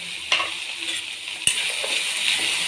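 A spoon stirs coriander powder into a cluster bean and potato bhaji in a hot pan. The steady sizzle carries a few sharp scraping clinks from the spoon, close and alone with no voices.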